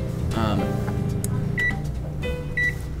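A microwave oven hums steadily while toasting bread, with a couple of short electronic beeps near the end, and someone talks over it throughout.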